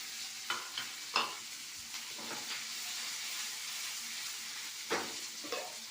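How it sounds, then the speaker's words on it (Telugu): Bitter gourd frying in an oiled pan gives a steady close sizzle, broken by several sharp scraping stirs of a spatula against the pan; no one speaks. "వేగింది ఇప్పుడు మనం కాకరకాయలు వేద్దాం"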